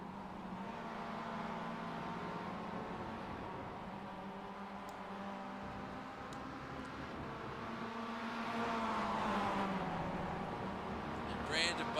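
Mazda MX-5 race cars at Road America give a steady engine drone under continuous commentator talk. One engine note climbs and falls as a car revs past.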